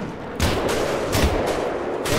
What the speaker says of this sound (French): je tire dessus, là, j'envoie des missiles et tout ce que tu veux